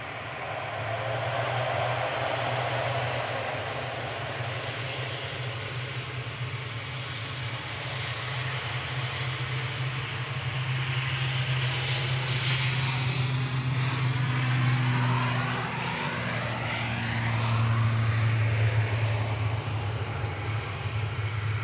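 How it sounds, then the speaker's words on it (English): An Aurigny ATR 72-600 turboprop airliner drones steadily overhead at an airport, a sustained propeller hum with a shifting pitch as it passes at moderate distance. "That's Aurigny heading back to Guernsey, operated by GPEMB, ATR 72600."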